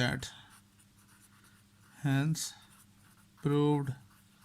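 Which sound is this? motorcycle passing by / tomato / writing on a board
writing on a board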